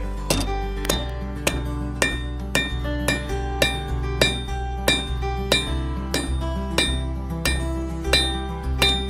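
Regular ringing metallic clangs, about two per second, as a hammer strikes a hot metal spoon being forged; each blow is loud and close with a bright ringing decay.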